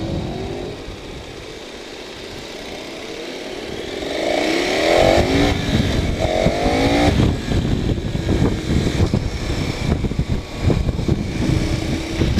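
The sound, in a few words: motorcycle riding on a test track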